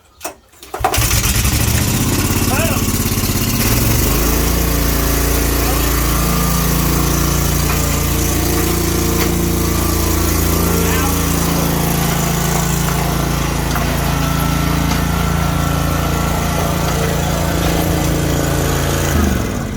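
A ride-on lawn mower engine, running after a fuel filter change, fires up after a brief crank and settles into a loud, steady, even running drone close by, with no talk over it.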